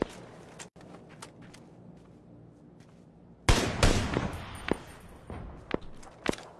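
Sharp shots crack out, a few scattered ones at first, then a loud burst followed by more irregular shots, with synthetic game-like punch.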